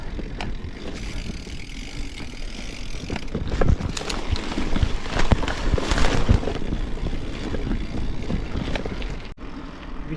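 Wind buffets the microphone during a springtime bicycle ride toward town, a continuous loud rumbling roar that swells and gusts for several seconds.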